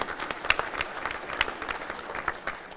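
An audience at a Monroe Chamber of Commerce luncheon gives a round of applause, steady scattered clapping from a roomful of people heard at a moderate distance.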